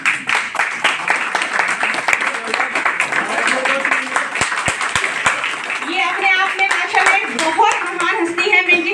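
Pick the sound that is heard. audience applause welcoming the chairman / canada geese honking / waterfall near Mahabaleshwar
audience applause welcoming the chairman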